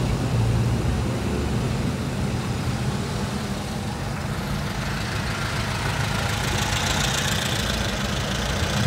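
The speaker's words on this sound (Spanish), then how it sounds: "Creo que sí hay algo de tráfico" Road traffic in Acapulco, with car and truck engines idling and rumbling in a steady, dense low drone, medium distance, no talk.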